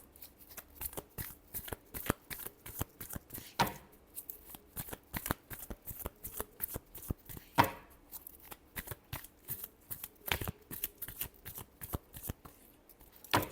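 Rapid riffle-and-flick shuffling of a tarot card deck, close and crisp, in quick bursts separated by short pauses, with no talking.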